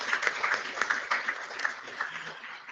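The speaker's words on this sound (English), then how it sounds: "We're giving you that applause either way." An audience at a public board meeting applauds a newly named student executive, a few seconds of moderately close clapping with distinct hand strikes that thins toward the end.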